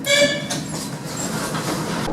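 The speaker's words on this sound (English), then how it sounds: "The first trains to arrive are some modernised old metro trains." An old modernised Budapest metro train rumbles steadily through a station, its broad rolling noise and brief high squeal near the start lasting throughout without speech.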